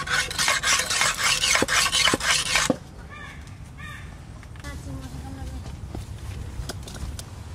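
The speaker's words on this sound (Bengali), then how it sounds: "বড় ইলিশ মাছ কাটবে, আমি বটিতে ধার দিয়ে দিচ্ছি।" A boti, a curved kitchen blade, gets sharpened for cutting a large hilsa fish, with rhythmic loud rasping strokes that stop abruptly, followed by quieter background activity and a voice.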